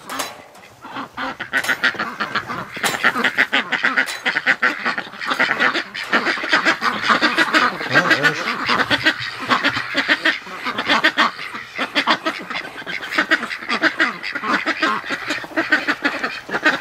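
A flock of ducks quacks continuously and loudly up close, many overlapping calls forming a busy, chattering chorus with no pauses.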